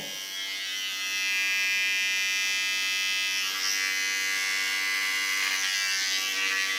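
A fine electric hair clipper trims close behind the ear during a pixie haircut, giving off a steady high-pitched buzz that holds at an even level throughout, with no talking.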